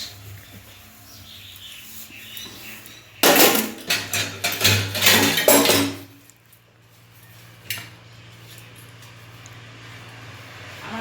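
Dishes, pots and utensils are scrubbed and rattled at home, with a loud burst of clattering metal and knocking in the middle, quieter stretches before and after, and one more clank near the end.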